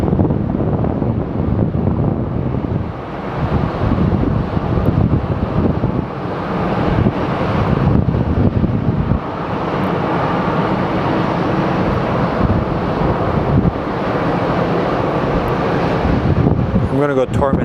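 Strong wind buffets the microphone at Phoenix Sky Harbor Airport, a steady loud broadband roar that surges and eases throughout with faint low rumble beneath.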